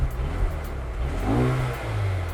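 A Mercedes-Benz A-Class in Sport Plus mode plays a synthetic engine note through its cabin speakers, a steady mid-pitched drone that swells in a brief rev and settles, heard alone without talk.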